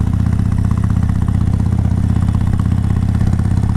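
A Harley-Davidson Sportster 72 engine rumbles loud and steady while riding, a deep continuous throbbing drone with rapid even pulses and no talking.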